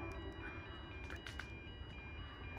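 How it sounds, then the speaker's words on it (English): Sydney Trains service pulling into Burradoo station, a steady rumbling train sound with faint high tonal whine, moderately distant and continuous. "this is the train I'll be getting on"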